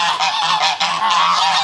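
Geese honk near their nest, a loud, close, continuous run of harsh honks with no talk.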